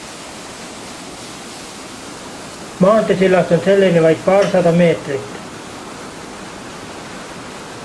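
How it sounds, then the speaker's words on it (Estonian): The Joaveski cascade on the Loobu River sends a steady broadband rush of falling water, constant and fairly loud throughout, while someone talks over it for a few seconds in the middle. "Joaveski joastik asub Loobu jõel, Harju ja Lääne-Viru maakonna piiril Joaveski asulas."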